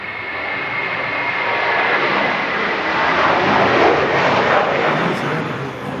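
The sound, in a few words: Air New Zealand airliner taking off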